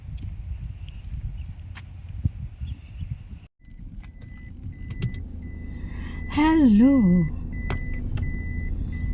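Inside a car preparing to drive off, a low idling engine hum runs throughout with small clicks and handling sounds; a brief gap, then a short voice greeting and a rising whistle-like tone over the cabin rumble.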